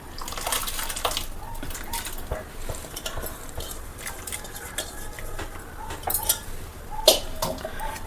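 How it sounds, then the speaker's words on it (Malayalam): A spoon stirs sago through boiling milk in a pot for beetroot payasam, making repeated soft scrapes and clinks against the metal with a faint bubbling simmer beneath, close and fairly quiet. "എന്നിട്ട് നന്നായിട്ട് ഇങ്ങനെ ഇളക്കിക്കൊണ്ടിരിക്കുക കേട്ടോ."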